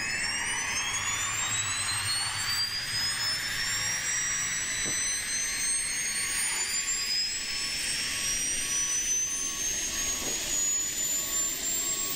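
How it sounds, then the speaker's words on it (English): Auxiliary power unit of an FSS E-Jet airliner in Microsoft Flight Simulator 2020 spools up, its steady loud whine rising in pitch and holding under a constant roar. "Let's go ahead and spool up this APU."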